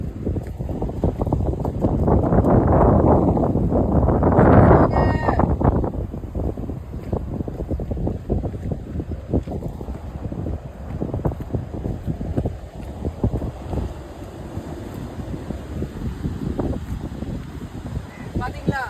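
Gusty wind on the Muttom beach seashore buffets the microphone in a loud rumbling rush, strongest early on, with a voice talking over it throughout.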